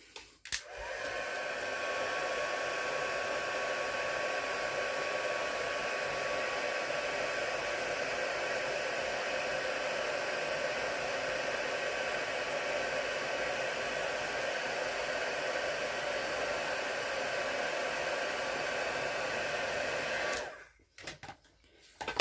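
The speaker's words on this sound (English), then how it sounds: "So just heat emboss this," A heat gun embosses a card sentiment, switching on with a click and blowing as a steady, loud, close whooshing hiss for about twenty seconds before cutting off.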